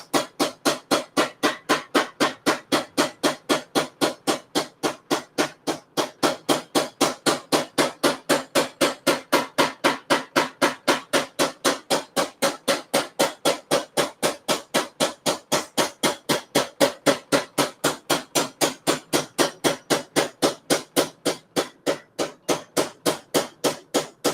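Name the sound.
hammer forging a kitchen knife blade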